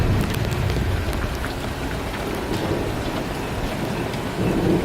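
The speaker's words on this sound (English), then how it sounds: "The rain wouldn't bother me to ride in." Steady heavy rain pours continuously with low thunder rumbling underneath, heard outdoors by motorcycle riders stopped on the road during a thunderstorm with lightning about.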